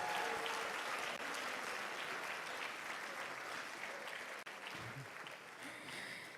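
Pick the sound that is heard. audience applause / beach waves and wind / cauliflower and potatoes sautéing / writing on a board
audience applause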